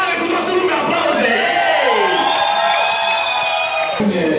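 Loud, continuous crowd noise at a free-beer gathering: a packed room cheering, whooping and yelling together, with a sustained shouted tone rising above the dense roar.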